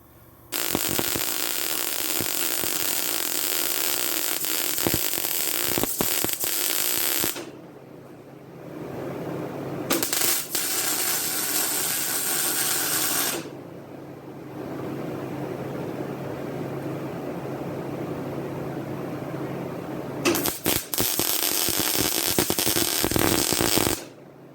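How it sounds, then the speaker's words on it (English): A roll cage is welded onto a Triumph Spitfire, with long steady buzzing welding runs that start and stop several times, separated by quieter gaps. "We'll go ahead and weld that up solid."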